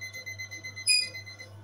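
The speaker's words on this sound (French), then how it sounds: "Je vais mettre le minuteur." A kitchen timer is set for kneading bread dough, giving a short run of faint clicks and ticks. A brief bright electronic beep rises in the middle.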